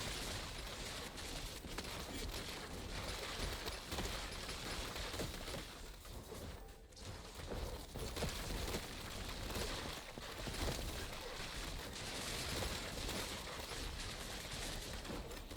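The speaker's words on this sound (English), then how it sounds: "More mortars." Mortar fire in the video game Raiders keeps up a steady, dense barrage of blasts and impacts. The noise is loud and continuous, with one brief lull partway through.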